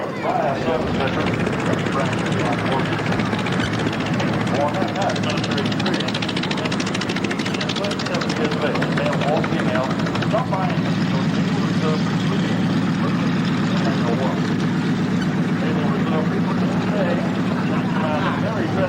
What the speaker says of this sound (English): Bearcats taking off along with the PT-3.